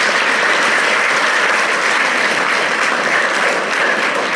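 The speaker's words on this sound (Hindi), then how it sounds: "ताली बजाओ इनके लिए।" A school audience at a Gita Bal Sanskar event in a Jaipur senior secondary school breaks into steady, loud applause, dense clapping from many hands filling the room without pause.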